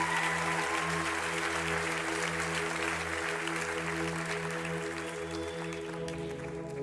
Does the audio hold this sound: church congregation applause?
yes